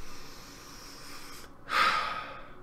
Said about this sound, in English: You gotta give it a sniff.